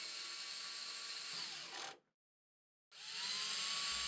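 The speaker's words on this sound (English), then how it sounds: "Align the dispenser over the anchors and drive the screws into the wall." Power drill driving screws into a wall to mount a Scott Essential towel dispenser: a loud, steady high whine for about two seconds cuts off into silence, then starts up again just as strongly.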